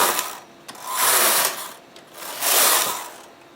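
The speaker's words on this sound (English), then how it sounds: "setting the machine for circular, and then I'm just going to knit 3 rounds" A knitting machine set for circular knitting works its rounds, the carriage giving loud mechanical whooshing and clattering sweeps that rise and fall in repeated passes, close and without speech.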